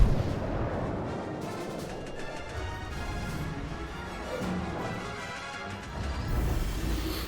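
Naval guns fire repeatedly in World of Warships Legends, a dense, continuous roll of heavy booms and crashes with layered distant blasts and no pauses.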